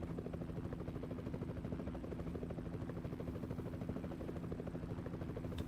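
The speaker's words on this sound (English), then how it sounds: "It's definitely a helicopter somewhere," A helicopter's rotor thumps in a steady, rapid rhythm somewhere in the distance in Euro Truck Simulator, continuous and fairly faint, with no voices.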